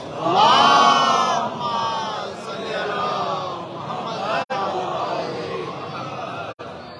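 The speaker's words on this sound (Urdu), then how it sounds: "ایک اور بلند صلوات۔" A large crowd at a religious majlis loudly chants salawat in unison, a dense sustained roar of voices that swells at the start and keeps going for several seconds.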